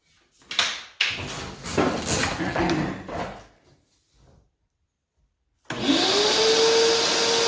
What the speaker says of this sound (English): The Shop Vac is fast.